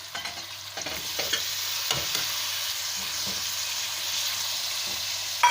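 Chicken and tomatoes frying in a pan for chicken do pyaza curry, a steady sizzle running throughout with repeated scraping stirs of a spoon against the pan, close and alone.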